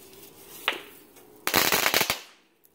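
A homemade potato gun fires outdoors: one sharp pop, then a louder crackling burst lasting about half a second that fades out quickly.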